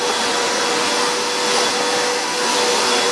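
Shop vacuum running steadily while sucking up sawdust around a DIY lawn-aerator shoe build, a continuous loud whine with an airy hiss and a slight surge in pitch partway through, no voices.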